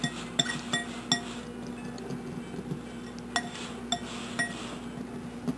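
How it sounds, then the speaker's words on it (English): Dry baking ingredients for a pumpkin roll, salt among them, whisked together in a bowl: light, irregular metallic clinks and taps against the bowl sound faintly over a quiet kitchen hum, with no voices. "You'll just whisk those together."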